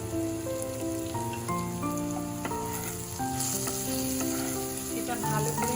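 Turmeric, chilli powder and Kashmiri chilli powder being stirred while frying in a pan for a mourola fish dish, giving a continuous close sizzle with scattered pops and spatula scrapes, under a steady musical backing with no voices.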